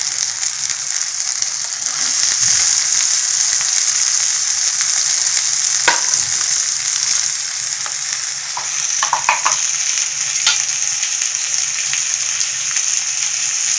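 Tomatoes frying in a hot pan for an Indian white peas curry, a loud, steady hissing sizzle that lasts throughout, broken by occasional clinks and scrapes of stirring.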